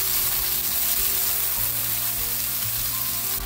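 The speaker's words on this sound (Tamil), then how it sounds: "ஒருக்கா இந்த வெங்காயத்தோடு இதை நல்லா கலந்து விட போகிறேன் வதங்கி வர்றதுக்காக" Tomatoes, onions and salt sizzle steadily in a hot pan for brinjal thokku, with a dense close frying hiss and occasional stirring, with no one speaking.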